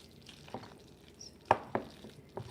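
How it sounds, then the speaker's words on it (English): A tuna patty mixture is stirred in a bowl, giving a few soft, scattered wet clicks and scrapes, quiet and close, with no talking. "it's starting to hold up a little bit better as I stir them together"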